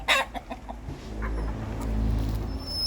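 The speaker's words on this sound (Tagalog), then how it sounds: "kumakain na sila" Pigeon breeders feeding in a loft, with soft clucking and cooing calls and a few sharp pecks at the start, over a steady low rumble.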